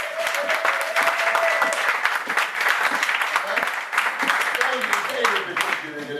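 A church congregation applauds during a Sunday worship service, dense sustained clapping from a crowd with voices calling out over it and some tonal sound in the background.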